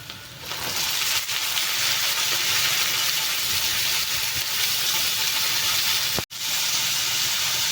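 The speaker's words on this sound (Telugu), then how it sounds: "ఉల్లిపాయలు వేగినాయి కదా, తోటకూర ముక్కలు వేసేద్దాం" Chopped amaranth leaves hit fried onions in a hot pan and set off a loud, steady sizzle that hisses on without a break, with only a brief dip near the end.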